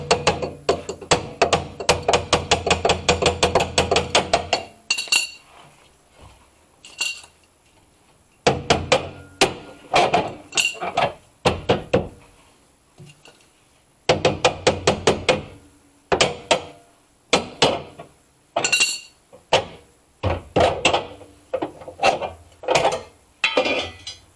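Repeated hammer taps on a Ford Focus subframe during a twin-turbo rear-wheel-drive conversion: loud, sharp metallic knocks in quick bursts separated by short pauses, close by with no talk.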